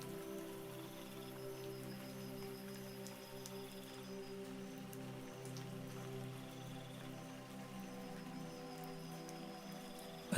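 Steady rain falls in a rainforest, a soft continuous patter of drops on leaves and ferns heard alone for about ten seconds, with a low background hum.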